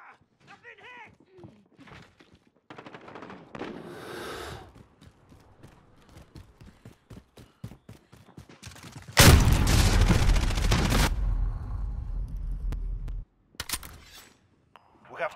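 Gunfire in Call of Duty: Modern Warfare multiplayer, starting as scattered shots and thuds with voices over them, then a dense, loud burst of sustained fire lasting several seconds before dropping back to sparse shots.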